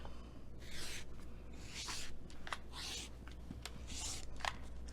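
A rotary cutter trims a quilt fabric strip along a ruler, a series of soft rasping cuts and slides, some longer and some short, close and quiet over a low hum.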